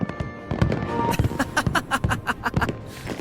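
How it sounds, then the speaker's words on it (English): Festival fireworks in MapleStory pop and crackle in a rapid string of sharp bursts, loud and close, with no voices. "those are fireworks from the festival"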